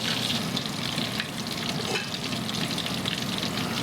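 Salisbury steak patties fry in a hot pan with a steady, dense sizzle that runs without a break from start to finish, close and fairly loud, with no voices.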